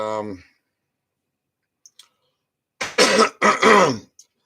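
After a brief voice, a pause, then two harsh, close coughs in quick succession, loud and raspy.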